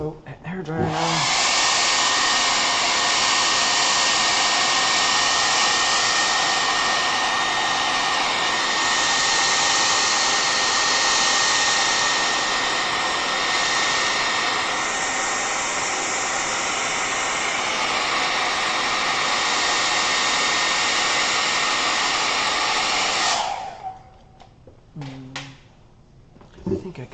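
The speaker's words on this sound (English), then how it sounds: "Alright, so hair dryer now." A hair dryer blows steadily and loudly for over twenty seconds while drying a watercolor forest landscape painting on paper, then clicks off, leaving a few faint handling noises.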